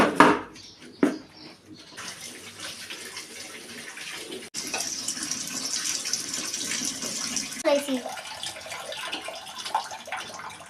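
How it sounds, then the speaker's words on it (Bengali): Eggs get rinsed under a running kitchen tap ahead of boiling in a pressure cooker, a steady splashing stream with a few light knocks and clinks near the sink, and the water's pitch shifts partway through. "চলো ডিমগুলো ধুয়ে নিই, তারপর প্রেশার কুকারে করে সেদ্ধ বসিয়ে দিই।"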